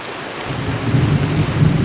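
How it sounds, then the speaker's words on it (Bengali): Heavy rain pounding a polythene sheet behind a house beside a wooden shed, a loud, dense, steady roar of drumming drops that swells after the first half second. "বৃষ্টি হয়েই যাচ্ছে।"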